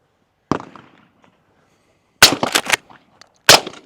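Three booming reports from a suppressed Mossberg 500 Hushpower 12-gauge pump shotgun, one lone shot, then a quick double after a pause, and a final shot, each sharp and loud with brief decay outdoors.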